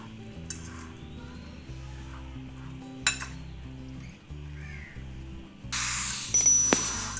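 A spoon stirs bread omelette batter in a bowl, with soft repeated clinks and scrapes under low background hum, then a louder burst of noise near the end.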